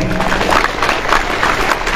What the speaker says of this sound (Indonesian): Sekali lagi tepuk tangan untuk para santri